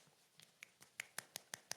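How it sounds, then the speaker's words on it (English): One hand clapping on its own, fingers snapping against the palm in a quick run of about nine sharp, close taps that grow louder toward the end. "One-handed clapping."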